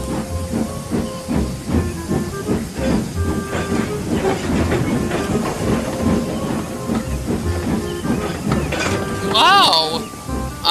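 A steam engine from a children's train story blows off steam in a loud hiss, over rhythmic clanking and a brief rising whistle-like tone, busy with layered music and effects.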